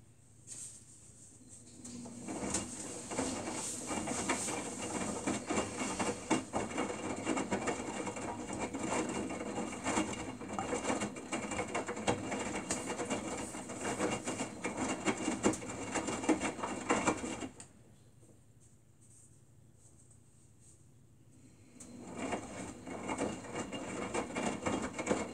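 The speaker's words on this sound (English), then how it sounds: "This washer is doing an amazing job." A washer runs with a steady rattling, whirring drone that stops for a few seconds and then starts up again, fairly faint and steady with no talk.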